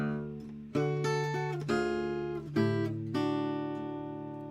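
Blues guitar bass line picked across the 6th, 4th and 5th strings, a handful of ringing, sustained plucked notes in a steady rhythm, close and clear with no talking.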